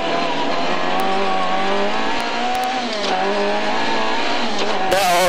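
Rally car in-car at an F-Cup 2014 stage start in Kangasniemi, engine roaring loud and close as it accelerates hard through rising gears, with brief tyre noise and a burst of gravel or wind near the end.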